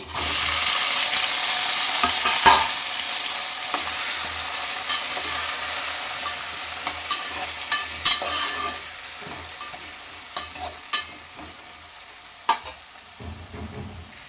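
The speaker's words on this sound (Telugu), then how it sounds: "ఇందులోనే టమాటాలు వేసేసుకుని ఉడికించుకోవాలి" Tomatoes cooking in a little oil in a pan for a tamarind, coriander and tomato chutney, a strong hiss of frying that fades gradually, with a few scattered scrapes and clinks of stirring.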